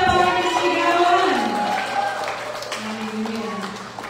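A church congregation at a Sunday service cheers and claps, a loud crowd roar that fades over a few seconds, with a voice talking over it toward the end.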